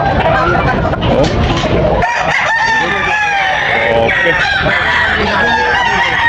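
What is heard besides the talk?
rooster crowing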